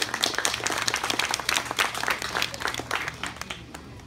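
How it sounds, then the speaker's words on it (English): Steady applause from a group at a retirement party honoring a long-serving steel company employee, dense overlapping claps continuing for several seconds before thinning out near the end. "So let's give him another round of applause."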